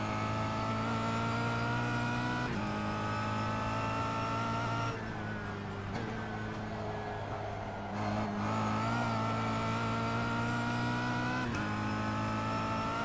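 Race car engines wail steadily during a race and hold high pitch, with gear-shift dips and brief lifts midway before they rev back up. They stay loud and close, with no talk.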